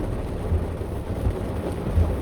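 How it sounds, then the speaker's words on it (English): Heavy rain pours steadily with low rumbling thunder underneath, a dense, continuous wash of noise with a few deeper booming pulses. "that is a heavy ass rain"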